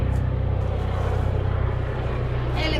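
A low, pulsing rotor throb of a helicopter passing by drones steadily nearby, loud and continuous, in a garden in Punta Gorda, Florida.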